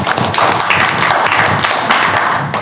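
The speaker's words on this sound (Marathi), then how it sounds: "वाजवा टाळी, बरोबर आहे।" A classroom audience clapping together after a correct quiz answer, a dense, loud and steady patter of many hands.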